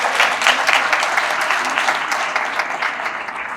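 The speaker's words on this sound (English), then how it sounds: "How about a round of applause for Fidelity Bank?" At a small business awards reception, an audience applauds for Fidelity Bank, a full, continuous patter of many hands clapping, loud and steady throughout.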